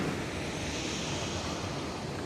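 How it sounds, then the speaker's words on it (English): Waterfall near the old city of Sarajevo, a steady, broad roar of rushing water that stays even and unbroken throughout, with no talking. "So this is the waterfall."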